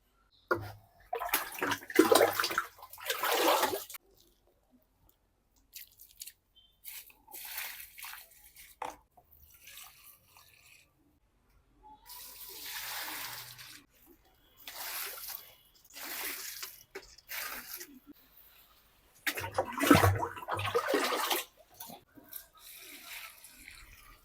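Motor-pumped water spraying onto dry garden plants, intermittent bursts of splashing and pattering that stop and start in several runs with quiet gaps between them.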